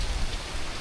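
Steady rain falls on a farm plot of growing plants, a dense, even hiss close by with no voices over it.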